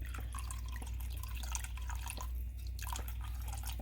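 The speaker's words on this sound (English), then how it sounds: "What I usually do is pour it in" Red wine pours and splashes into a cooking pot, with dripping, gurgling sounds over a low background hum; no one speaks.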